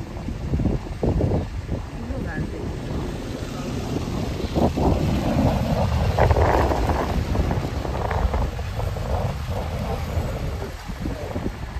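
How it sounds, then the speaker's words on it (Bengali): A breeze blows in Kaziranga National Park, a steady broad rush across the microphone, with people talking faintly underneath. "হাওয়াটা দারুণ লাগছে।"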